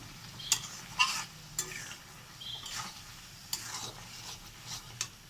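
Prawns being sautéed and stirred in a pan, with a soft sizzle under sharp scraping spoon strokes that come in irregular bursts, close by and with no talking.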